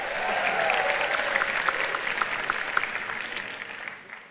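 Audience members at a stand-up comedy show by Bintang Emon clap in a fairly soft, steady round of applause that gradually thins out.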